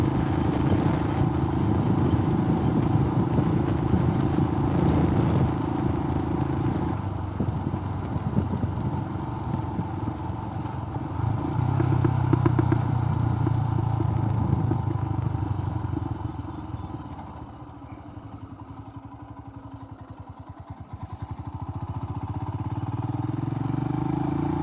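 A motorcycle rides along Buckland Park Road near Two Wells, South Australia, its engine droning steadily under wind rumble, rising and easing with throttle changes and briefly dipping before building again.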